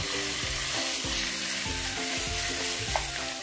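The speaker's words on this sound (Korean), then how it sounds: "웍을 준비해서 뜨겁게 달군 후에 준비해놨던 삼겹살을 넣고 볶아주세요" Pork belly sizzles and crackles in a hot wok over high heat, a steady close frying hiss broken by scraping stir strokes and small pops, with no talking.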